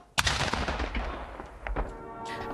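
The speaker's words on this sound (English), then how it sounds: "Once at the Capitol, he received a gun salute fired from cannons." A cannon gun salute at the US Capitol during a state funeral: one sharp, loud boom opens, then a second blast follows about a second and a half later, each rolling into echoing outdoor reverberation.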